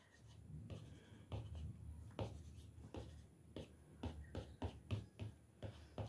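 Stylus strokes on an iPad screen while erasing with a brush effect in Procreate, a series of soft, close scratchy swipes in an irregular rhythm, with no voices.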